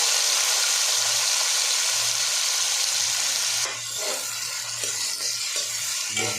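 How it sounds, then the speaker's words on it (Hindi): Onions frying in a pan for nihari, a loud steady close sizzle with stirring scrapes and clatter in the latter half. "अभी जो है ना ये हम प्याज फ्राई करने लगे हैं।"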